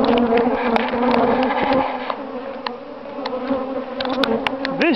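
Honey bees buzzing around hive boxes at a bee yard used for grafting, a dense, loud, continuous drone of many insects close by with bees passing near.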